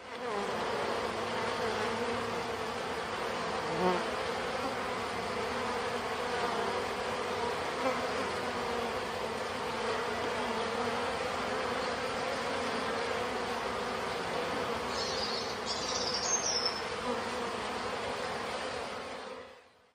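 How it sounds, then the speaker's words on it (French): Honeybees at the entrance of a hive, recorded up close: a dense, continuous buzzing hum, steady and moderately loud, with a few louder individual bees passing near the end. "nous écoutons le bruit des abeilles, le micro étant posé près de l'entrée d'une ruche"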